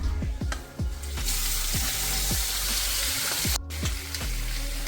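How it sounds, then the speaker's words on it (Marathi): Fenugreek seeds sizzle and crackle in hot oil with chili powder, salt and a souring agent while river fish cooks in a Konkan-style pan. The frying hiss is steady and close, broken by a series of soft repeated scraping strokes. "मेथी तडतडली ना"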